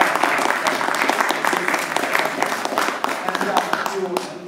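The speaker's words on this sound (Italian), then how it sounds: "Vorrei che a questo punto facessi un applauso," Wedding guests applaud warmly for several seconds, a dense, steady burst of clapping from a crowd in a ceremony setting, with a voice faintly under it.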